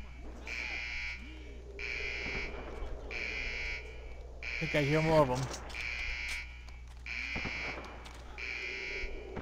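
An alarm buzzer sounds in the video game Iron Storm, repeating loud pulsed tones at a steady rhythm over a low hum. Someone speaks briefly in the middle, and a brief descending whine is heard while he talks.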